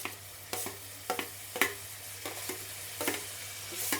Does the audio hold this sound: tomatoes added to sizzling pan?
yes